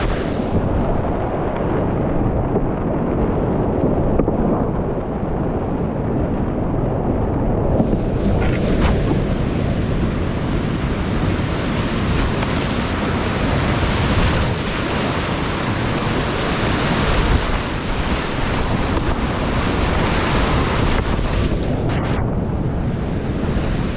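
Rapids on the Kipkarren river roar steadily around a kayaker, a loud, continuous rush of churning whitewater with heavy wind buffeting the microphone throughout and no voices.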